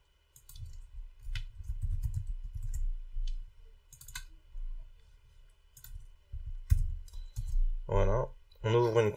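Keys clatter on a computer keyboard as a git clone command is typed into a console, quick light clicks in short bursts, close and fairly quiet, with a voice speaking briefly at the end.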